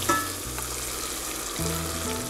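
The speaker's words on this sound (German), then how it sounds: "sobald wir ein schönes Karamell haben, das so schön goldenbraun ist, können wir dann auch die Butter hinzugeben" Butter melting into hot golden-brown caramel in a pan, a steady close sizzle and crackle for a couple of seconds with no talk.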